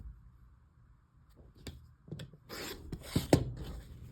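Quilt fabric being trimmed along the stitch line, sparse soft scrapes and taps that grow into close, rougher cutting and rubbing sounds toward the end.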